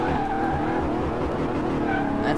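A car in Car Mechanic Simulator 2018, a Plymouth, drives with a steady engine drone and continuous tire squeal, close and loud throughout.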